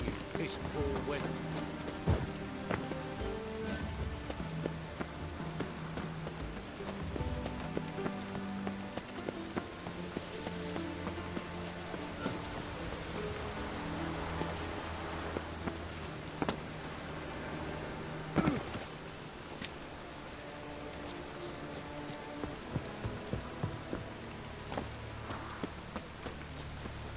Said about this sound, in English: Even the rain smells like piss in this town.